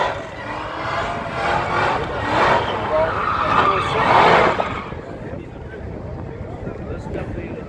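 Two cars, a bolt-on modified Cadillac CTS-V and an F10 BMW M5, race with loud engine roar and tire noise that swells to a peak, then eases back, a voice talking over it.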